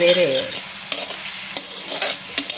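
Ginger garlic paste frying in a pan gives a brief sizzle with a few sharp spoon scrapes and taps close by; a short tonal sound opens the clip and no one speaks.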